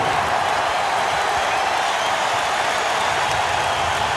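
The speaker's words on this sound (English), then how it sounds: "Crowd starting to sense Shaq" Dense, steady roar of a basketball arena crowd cheering at a 2000 playoff Game 7 between the Lakers and Blazers, loud and sustained without a break.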